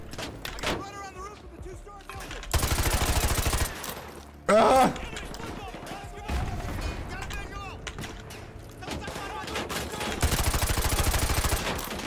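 Bursts of automatic gunfire in the video game Modern Warfare 2 Remastered, loud sustained volleys that come and go across the scene with louder single impacts, mixed with game effects and a player talking over the action.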